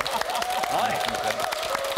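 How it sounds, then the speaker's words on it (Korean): Studio audience applause greets a professor guest arriving on a Korean TV health talk show, a dense, steady patter of many hands lasting throughout, mixed with a sustained tone and voices. "여러분 박수로 맞이해 주시기 바랍니다."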